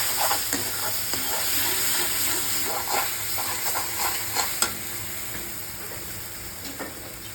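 Peas sizzle and fry in a pan for paneer matar after onion paste has gone in, a steady hiss broken by repeated scraping stirs, close and clear with no talk.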